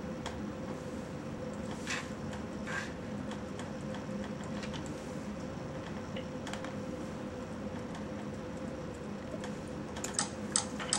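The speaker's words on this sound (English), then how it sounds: "If you already created it, you can just type it in there." Someone types a PIN on a computer keyboard to log in, producing sparse, faint key clicks scattered over a low, constant room hum.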